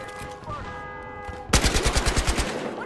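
Fireworks in Battlefield Hardline pop off in a fast, evenly spaced string of about ten sharp bangs, loud and close, after a quieter stretch of game ambience.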